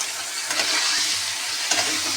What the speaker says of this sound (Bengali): আলুটা ওদিকে ভাজছি